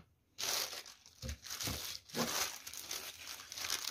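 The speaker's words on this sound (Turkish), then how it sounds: "Poşetinden şöyle kurtulalım." Plastic bag crinkling and tearing as a Roadstar PDH694XR headphone is pulled free of its packaging, a close, busy rustle with sharper crackles, no talking.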